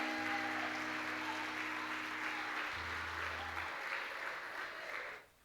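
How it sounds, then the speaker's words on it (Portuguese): A church congregation applauding during a worship service, a continuous broad wash of clapping over sustained low organ or keyboard chords, fading out at the end. "Você pode aplaudir Jesus?"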